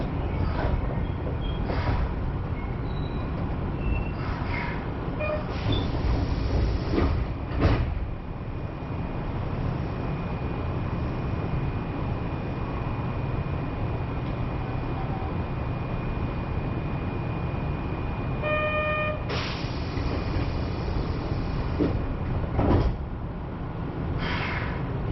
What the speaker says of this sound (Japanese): 右側の扉が開きます。